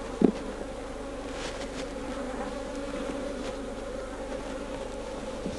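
Honey bees buzz around an opened swarm hive, a faint, continuous hum of many insects close by, with a brief knock near the start.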